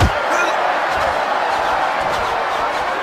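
A boxing crowd roars in the Fight Night Round 3 video game, a loud, steady wall of cheering that holds without a break for the whole stretch.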